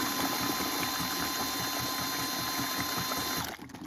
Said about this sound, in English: I'm using a DeWalt DCN or DCD 999. It's got enough jam to use this mixing paddle here.